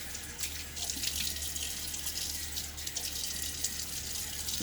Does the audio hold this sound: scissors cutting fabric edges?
no